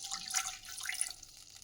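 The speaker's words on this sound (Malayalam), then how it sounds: "ഒരു പാത്രത്തിലേക്ക് കുറച്ച് വെള്ളം ഒഴിച്ച് കൊടുക്കും" Water pours into a cooking vessel in a home kitchen, a soft, splashy trickle that is faint and brief, rising and then tapering off, with no one speaking.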